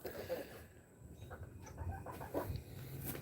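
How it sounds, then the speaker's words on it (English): A big rooster and chickens cluck quietly in a farm coop, with short scattered calls over faint background noise. "That's the big mean rooster that Kelly and Reagan got us."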